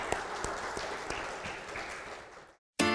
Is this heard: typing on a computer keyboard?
no